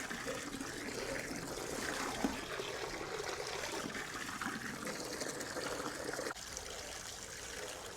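Water pours steadily into a container, about half filled, giving a continuous close trickling gush that runs the whole time with a slight drop in level near the end.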